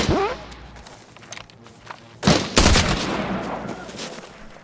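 Gunfire in Arena Breakout Infinite: a sharp initial shot, scattered clicks and footsteps, then a loud burst of close shots around the middle followed by a rumbling, fading tail.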